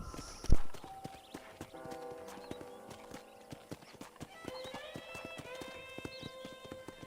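Horse hooves clip-clop in a steady rhythm while a horse whinnies, with music playing underneath in a Red Dead Redemption game scene.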